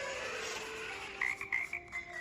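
A frog croaks as a sound effect during a children's picture-book reading, a few short rasping calls over a faint background hum, with no talking.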